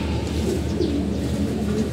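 Soft, low pigeon coos repeat in a gentle rolling rhythm, close by, over a faint steady background hum.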